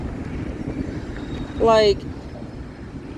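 A long Union Pacific manifest freight train of low flat cars, led by two engines with UP 1996 in front, rolls past on Central Avenue as a steady close rumble, with a brief high wheel squeal. A person speaks.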